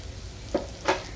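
Coriander seeds and spices fry slowly in oil, a faint steady sizzle punctuated by two quick stirring scrapes.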